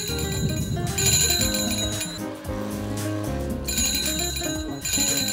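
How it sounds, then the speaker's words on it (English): Bicycle bells ring repeatedly on a busy Beijing shopping street, with bright metallic dings recurring over the steady hum of passing traffic and crowd. "so many locals pass through here that the bicycle bells never stop ringing"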